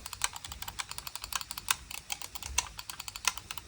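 Side buttons on an Aula SC900 budget lightweight gaming mouse clicked over and over in quick, crisp bursts, close and fairly quiet, a steady patter of sharp ticks with no talking.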